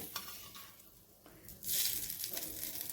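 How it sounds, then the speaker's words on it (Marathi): Quiet stirring and scraping, then a sudden burst of sizzling as cumin, mustard seeds and asafoetida hit hot oil for tempering chutneys, crackling close by for the last second or so. "आता सगळ्या चटण्यांना मस्तपैकी फोडणी घालूया"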